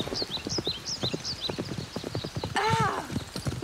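Cartoon horses galloping with quick rhythmic clip-clop hoofbeats, joined by a whinny near the end, loud and close.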